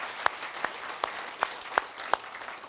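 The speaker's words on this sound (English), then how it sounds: "can we give Michael and his whole team a quick big round of applause" A few sparse, evenly spaced claps, about six sharp hand slaps roughly half a second apart, quiet and thin, in a conference room.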